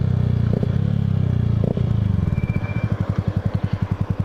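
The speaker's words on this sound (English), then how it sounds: "It just feels that my bike's screaming too much." A Yamaha R125 motorcycle engine revs loudly and close, a strained rasping drone that breaks into fast rhythmic pulsing bursts toward the end, with no voices.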